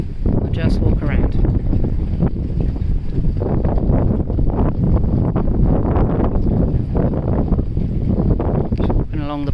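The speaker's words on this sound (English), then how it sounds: "It's a little windy, so I'm not going to talk too much." Wind buffets the microphone on the deck of a Bavaria 46 Cruiser sailboat, a loud continuous roar with gusty rustling and faint creaks.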